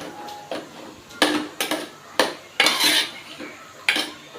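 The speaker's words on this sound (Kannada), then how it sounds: "ಇವಾಗ ಚೆನ್ನಾಗಿ ಮಿಕ್ಸ್ ಮಾಡಿ ಈ ಬಾಳೆಕಾಯಿ ಅದು ಹಸಿ ವಾಸನೆ ಹೋಗಬೇಕು ಅಷ್ಟರವರೆಗೆ ನಾವು ಒಂದು ಐದು ನಿಮಿಷ ಫ್ರೈ ಮಾಡ್ಕೊಳ್ಬೇಕು" Raw banana pieces are stirred and fried in a pan, with a spatula scraping and clattering against the metal in a quick series of repeated strokes, close and clear, and no one speaking.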